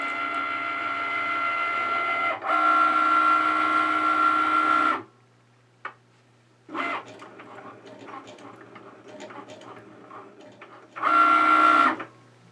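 A Cricut Maker drawing with an infusible ink pen gives off bursts of motorized whirring, with a sustained carriage hum, a gap of quieter stepping clicks, then another whirring run.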